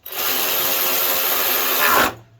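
A loud, steady whir from a power tool driving the big bolts on a New Holland water pump, holding at one pitch close up for about two seconds before cutting off.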